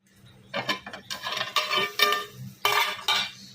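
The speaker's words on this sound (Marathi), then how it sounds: "छानपैकी या भरताला आता चम्मचने दाबून दाबून मिक्स करायचं" A spoon presses and mixes roasted eggplant bharit in a pan over low heat, giving a series of close scraping, clinking strokes in uneven bursts.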